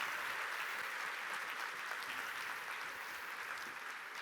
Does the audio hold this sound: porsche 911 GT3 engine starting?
no